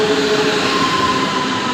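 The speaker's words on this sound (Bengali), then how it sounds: "এই যে ট্রেন ঢুকছে এখন" A train pulls into a station with a loud, continuous rumble and a thin steady whine riding on top, close by and unbroken, with no one speaking.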